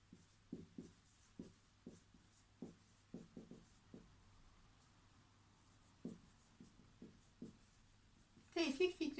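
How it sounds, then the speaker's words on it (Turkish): A pen writes out an example on paper during a Turkish literature lesson, making a series of short scratchy strokes in irregular clusters, close and fairly quiet, ending in a louder rustle. "Hemen örneğimi yazıyorum."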